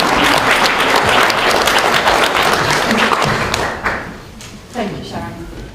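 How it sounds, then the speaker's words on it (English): Wedding guests break into a big round of applause, loud and dense clapping that fills the room for several seconds before thinning out into a few scattered claps and thuds. "I think that deserves a big round of applause."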